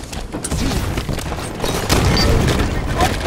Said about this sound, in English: We both got grenaded.